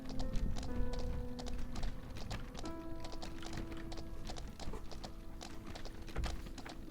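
Horse hooves clip-clop at a steady trotting rhythm in an indie video game, crisp and close over a soft background tone, with a voice talking briefly.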